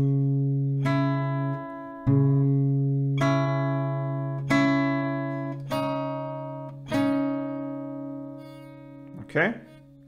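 Acoustic guitar picking part, played slowly with bar chords, six or so plucked note groups ringing out one after another, close and clear, followed by a short voiced sound at the end.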